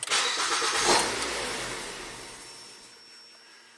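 A 2009 Ford Fusion with a no-crank, rough-running fault starts up. A loud burst as the engine catches is followed by a steady running roar that slowly settles and fades toward idle, with no talking.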